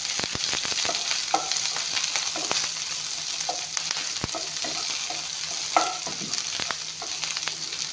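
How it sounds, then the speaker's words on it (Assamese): Onion, green chilli and ginger sizzle steadily in a hot oiled pan while a spoon scrapes and stirs in several distinct clicks, cooking for ghugni, close and alone without talk. "এইখিনি অলপমান ভাজি ল'ম"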